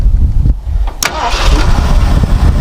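An abandoned 1978 Lincoln Town Car, left sitting for a long time, cranks briefly, then its engine catches and settles into a steady, close running rumble.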